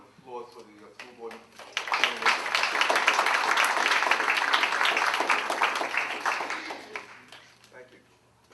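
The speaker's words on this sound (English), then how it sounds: "Can I get another round of applause for the school board?" Applause for school board candidates at a candidates night in Dayton: a short voice at the start, then a swell of crowd clapping that holds for several seconds before fading away.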